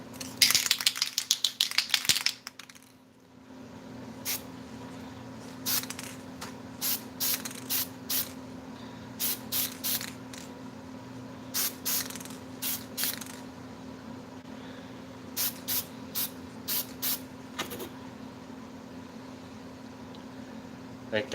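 Spray paint goes onto a project in short hissing bursts, first a long spray and then a string of brief spurts at irregular intervals over a steady low background hum.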